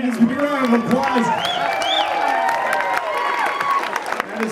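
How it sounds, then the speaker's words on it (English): A crowd at a wedding celebration at Willow Creek Country Club claps and cheers loudly and continuously, with whoops and voices mixed into the applause. "Give me a round of applause"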